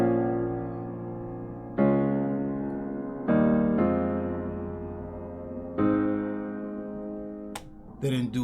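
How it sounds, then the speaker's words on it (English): Cinematic synth chords from the Keyscape instrument play as sustained, rich harmonic pads, changing chord every couple of seconds with soft swells, with a brief percussive flicker near the end. "Now we just add in some chords from Keyscape."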